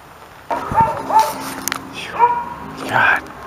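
A dog barks a few times in a garage, short sharp yips spaced irregularly at moderate distance, with some background movement between barks.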